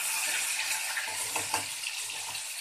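Tomatoes fry in a pan as they are stirred, making a continuous close hiss and sizzle with light scraping movements and no voices.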